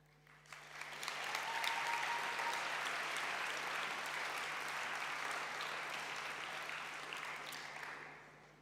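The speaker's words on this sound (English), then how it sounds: "That probably deserves some clapping" Audience applause at a Model UN closing ceremony after a vote result, rising quickly into a dense, steady roar of clapping that holds for several seconds before tapering off.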